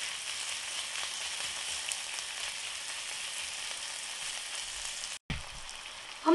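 Steady, close sizzling of ginger, garlic and onions frying in hot oil, continuous with no talking and a brief break near the end.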